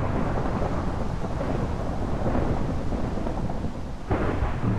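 Steady rain and rolling thunder from a thunderstorm in the survival game Die Insel, a dense continuous roar with a louder rumble swelling near the end, no voices.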